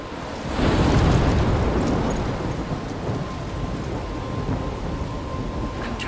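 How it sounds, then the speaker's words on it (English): Heavy rain pours steadily while rumbling thunder swells early and then rolls on beneath the downpour, a stormy scene in the video game Life Is Strange. "I'm trapped in a storm?"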